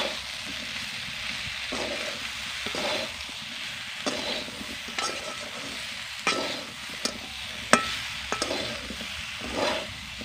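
Vegetables for shukto being stirred and fried in a pan with turmeric, chili powder and salt, a steady soft sizzle broken by repeated scraping strokes of the spoon, close and alone.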